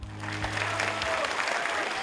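Loud, dense applause fills a drama theatre in Shymkent at a memorial evening, a sustained wash of clapping from a large audience with a voice briefly heard over it.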